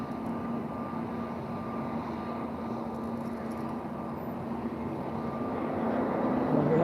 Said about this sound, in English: we have the Swiss Airlines, an Airbus A321